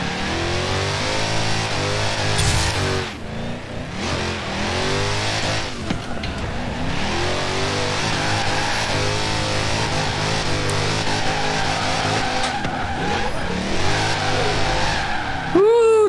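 A drifting car in the Forza Horizon 4 racing game: the engine revs hard and rises and falls in pitch while the tires squeal in long skids, loud and continuous for over fifteen seconds.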